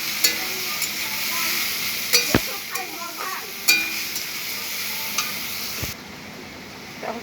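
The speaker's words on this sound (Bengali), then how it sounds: "এখন খুন্তি দিয়ে নাড়িয়ে নিচ্ছি" Food frying in a pan is stirred with a metal spatula after the cover is lifted. A soft, continuous sizzle runs underneath, with sharp scrapes and taps from the spatula scattered throughout.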